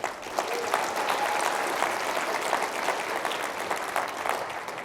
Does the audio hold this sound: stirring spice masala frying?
no